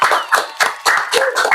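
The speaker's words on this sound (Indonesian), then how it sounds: "Tepuk tangannya buat Bos Rusdi yuk" Audience clapping for Bos Rusdi during a comedy podcast, several distinct bursts of hand claps in a short uneven rhythm, fairly close and loud, with no one speaking.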